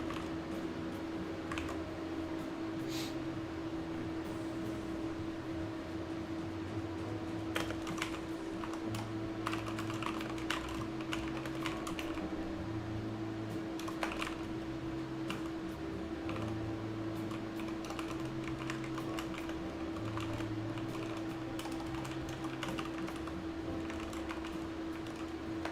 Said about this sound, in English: Sorry, I was just typing out here.